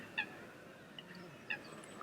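Goose honks outdoors, a few brief nasal calls spread over two seconds, moderately distant against steady background noise.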